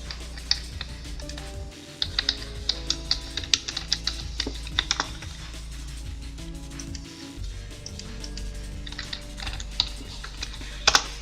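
Fingers type on a computer keyboard in quick irregular bursts of clicky keystrokes, with short pauses between runs and a few louder key strikes, close by over a low background hum.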